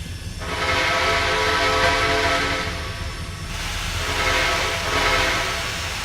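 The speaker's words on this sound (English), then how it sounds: "What chime whistle does that train have, and can you blow it?" A train on the Iron Mile blows a sustained chime whistle in two long blasts during a first run, loud and tonal over a rumbling, hissing background, with no voices.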